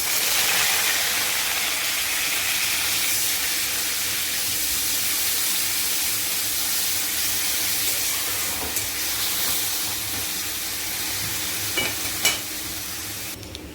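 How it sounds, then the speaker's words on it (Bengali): Grated onion with bay leaf fries in hot oil in a pan, giving a steady, continuous sizzle and hiss that stays even throughout, with no talking. "পেঁয়াজটা একটু ভাজা ভাজা হয়ে গেছে"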